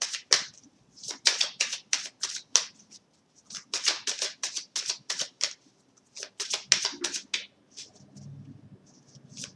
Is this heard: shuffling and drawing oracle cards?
yes